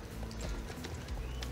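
Selle Français horse walking in the Star Stable video game, steady clip-clop hoofsteps heard close and continuous over a game soundscape, with no talking.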